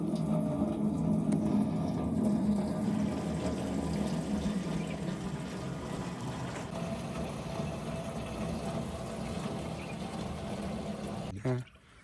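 A pot full of water is poured into a barrel for home-made raw alcohol, a steady gushing, splashing pour lasting several seconds that ends abruptly with a brief knock.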